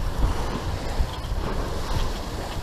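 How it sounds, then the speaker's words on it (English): Lake Erie waves slap and wash against a sailboat's hull, with steady wind buffeting the microphone and low rumbling surges throughout. "2 to 4 footers will come in"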